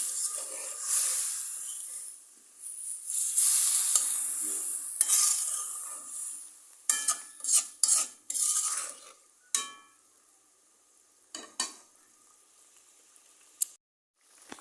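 Hilsa fish pieces hit a pan of spices and fry with a fierce sizzle that fades, then sharp scraping stirs and clinks come in bursts separated by quieter hissing stretches.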